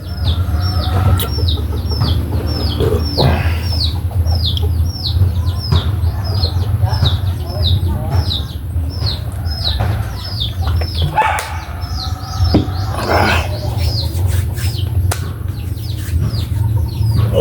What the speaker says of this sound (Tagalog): Bago magpakain ng manok.